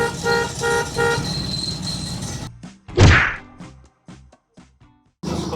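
A Big Ben's owner-type jeepney horn honking loudly and close in a musical multi-tone pattern, several pulsed toots then a thud, brief gaps, and the horn starting again at the end.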